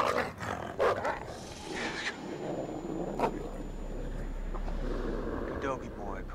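A wolf growls and barks in the video game Until Dawn, snarling and yapping moderately loud amid game sounds and rumbling, while a person talks over it.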